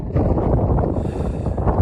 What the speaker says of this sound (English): But it is genuinely like really windy here.